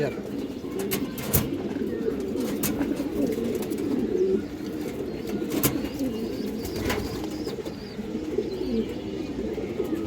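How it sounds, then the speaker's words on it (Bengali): Silver male pigeons of a high-quality breed coo in a steady, overlapping chorus at close range, a continuous low murmur of calls with occasional sharper clicks and noises from the loft. "খুবই ভালো ব্রাডের হাই কোয়ালিটি একটা সিলভার নর কবুতর"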